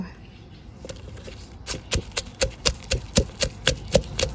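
Chili, garlic and shallot pounded in a mortar for a Thai-style mushroom chili paste, a quiet start followed by about ten sharp, steady thuds that grow gradually louder.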